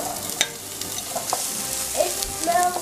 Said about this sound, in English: I just throw an onion in, and if it sizzles then it's hot enough